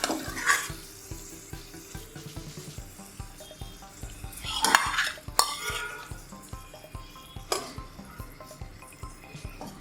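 Spice masala worked by hand and spoon over a whole uncut cauliflower in a kitchen pot for gobhi musallam, giving soft scraping and stirring with sharp clinks of metal utensils against the vessel.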